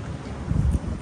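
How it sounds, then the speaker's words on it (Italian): Wind buffets a microphone outdoors at Celle Ligure, Liguria, with a steady low rumble and gusty swells, no voices present. "Chissà se quello che stiamo dicendo si sentirà, perché c'è un vento."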